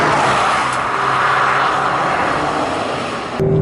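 A Peugeot RCZ R engine drones steadily from inside the car while driving, a loud, even hum with a sustained tone throughout and a slight shift near the end.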